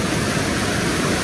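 The biggest waterfall in Luxembourg pours in a steady, dense roar at close range, a continuous broadband rush with no breaks and no voices over it.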